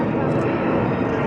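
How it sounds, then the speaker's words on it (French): Airbus A380 making a low-speed flyby at the 2011 Paris Le Bourget air show, flaps extended at about 180 km/h, a steady broadband engine roar filling the whole clip with a voice commenting over it. "un passage à basse vitesse avec les volets 3, on le met sur une pente un peu cadrée à ce moment, et on descend à 180 km/h seulement"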